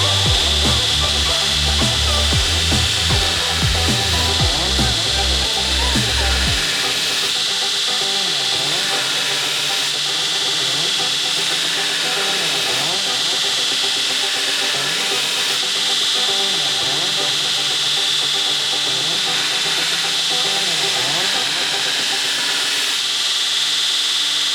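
A knife blade pressed against a grinder belt with a push stick, a steady abrasive rasp running throughout, with a heavier low rumble in the first few seconds before it settles into a continuous even grind.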